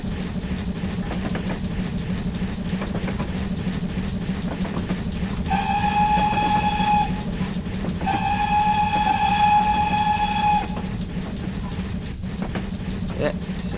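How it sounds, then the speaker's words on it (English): A train runs on the Falmouth Branch in Train Simulator 2022 with a loud, steady rolling rumble. Its horn sounds two long blasts midway through, the second longer than the first. "Oh, another good location to watch the train going by."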